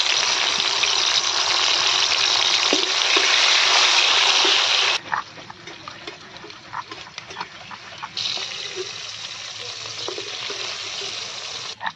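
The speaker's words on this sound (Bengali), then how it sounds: "এরপর গরম তেলের মধ্যে টমেটোগুলোকে ভেজে নেব।" Tomatoes frying in hot oil in a village home kitchen, a steady loud sizzle that drops away midway, leaving quieter crackles and small clinks, then returns as a strong hiss.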